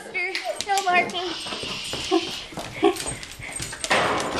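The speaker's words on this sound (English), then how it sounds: "No barking." A pet dog whimpers and yips in high, wavering cries, then lets out a couple of short barks, close by indoors, with a person talking over parts of it.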